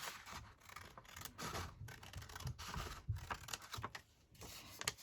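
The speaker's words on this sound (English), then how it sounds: "come along and cut along your crease" Scissors snip and slide through paper along a folded crease while making library card pockets, a quiet run of irregular crisp cuts and rustles, close up and alone.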